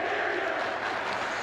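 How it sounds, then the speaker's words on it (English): At a 2005 New Jersey high school hockey state final in the Meadowlands arena, a large crowd cheers and shouts. It is a dense, continuous roar that fills the space for the whole moment. "Crowd starting to get into it."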